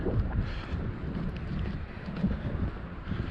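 Fresh, warm mid-October wind on an outdoor walk at Noboribetsu, Hokkaido, buffeting the microphone in a steady low rumble with gusty swells throughout, no voices.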